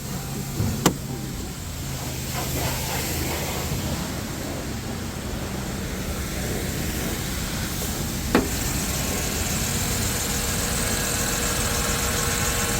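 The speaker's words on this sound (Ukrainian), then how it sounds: "Чиста робота двигуна." A steady low car engine idle hums evenly throughout, with a couple of brief clicks near the start and middle, at a used car market.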